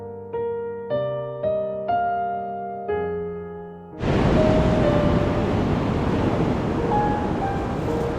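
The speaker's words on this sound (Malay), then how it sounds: "Dengan ombak yang besar begini." Large ocean waves break loudly and steadily on a shore at high tide, a full continuous roar of surf and wash that sets in abruptly after a few seconds of musical notes and then holds without a break.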